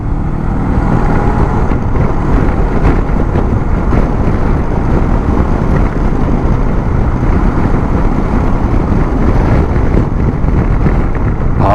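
A Honda NX500 twin-cylinder motorcycle accelerates hard, its engine roar blending with heavy, constant wind rush at loud, unbroken volume.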